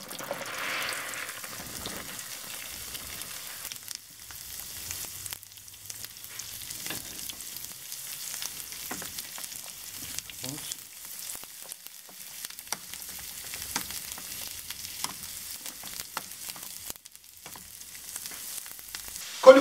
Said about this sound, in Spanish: Coliflor ahora cocinando.